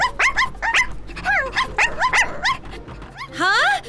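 A cartoon puppy yips and barks in a rapid, playful series of short, high-pitched calls, close and loud, ending in a longer whimpering whine.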